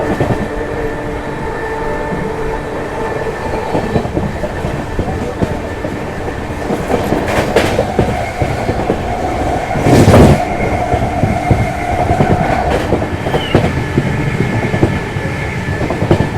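The Magadh Express rushes past Dankaur at 110 km/h in thick fog, a loud, close, continuous rumble and clatter of wheels on rails that swells with a sharp burst near the end.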